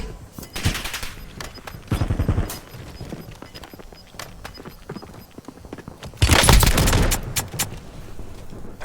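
Riveter shotgun fire in a shooter video game, loud rapid bursts of booming blasts in two clusters separated by quieter stretches of game noise, with dense heavy volleys near the end.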